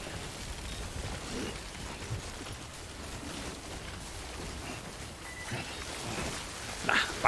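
Continuous light rain hisses evenly throughout in the video game Death Stranding, quiet and steady, with a couple of faint knocks and a short burst near the end.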